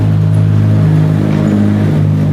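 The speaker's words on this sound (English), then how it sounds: "the pumpkin truck passed by" A pumpkin truck rumbling past at harvest time, a loud steady engine drone with a low humming tone that holds evenly throughout, close and unaccompanied by voices.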